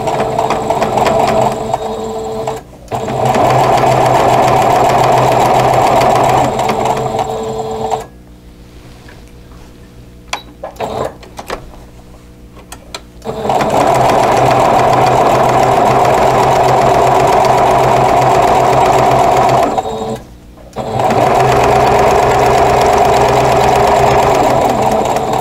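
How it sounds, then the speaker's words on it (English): A sewing machine stitches bias binding down onto a crochet hook wrap, running in long steady bursts of loud, even whirring with a pause of several seconds midway and a brief stop near the end. "And then I'm going to sew this down, and I'm going to do it just shy of a quarter of an inch"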